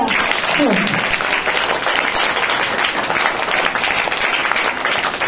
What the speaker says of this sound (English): Give clap to that teacher